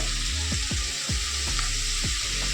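Potatoes and pointed gourd frying in hot oil with salt, a steady loud sizzle throughout with a few soft stirring scrapes, no talking.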